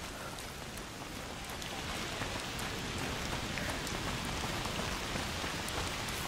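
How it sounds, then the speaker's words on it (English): Steady rain falls in A Plague Tale: Requiem, a dense, even hiss of drops pattering on surfaces that holds at a constant level throughout, with no voices. "Foul rain."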